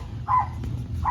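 Dog barking in short yelping bursts at a home bath time, two or three close barks over a low steady background hum.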